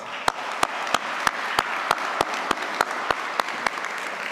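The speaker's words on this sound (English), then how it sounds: "Give yourselves a round of applause." Graduates at a 2024 commencement ceremony applaud, a dense wash of clapping from a large seated crowd, steady and fairly loud, with sharp bangs recurring at a regular beat throughout.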